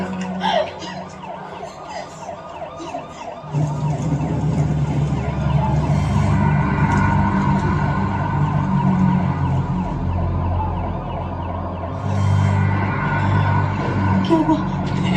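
Ambulance siren wailing in a rising and falling pattern, loud and continuous, with an engine rumble underneath and people shouting over it.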